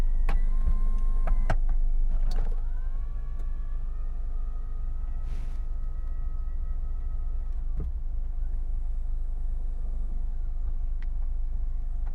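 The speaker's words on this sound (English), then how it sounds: "let's put down the top, shall we?" The retractable hard top of a 2021 Mazda MX-5 Miata RF lowers with an even, close electric motor whir lasting several seconds, framed by mechanical clunks at the start and finish over a low idling hum.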